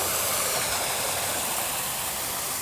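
Running waterfalls in a public park give a steady, dense broadband rush of falling water, constant and fairly close with no voices.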